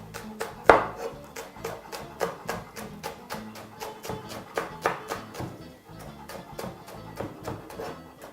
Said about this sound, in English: Proceed also to chop some of your leeks. Also your spring onions.